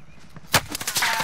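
Call of Duty: Modern Warfare gunfire cracks out as one sharp loud shot, followed by several quicker, softer reports in a brief burst.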